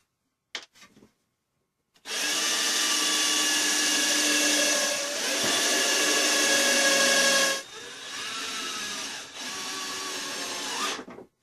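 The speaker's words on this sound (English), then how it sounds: "So let's put the pilot holes in this one first." A power drill bores pilot holes into the wood of a handmade treasure box: a steady, loud whirring run of about five seconds, then a second, slightly quieter burst after a short dip.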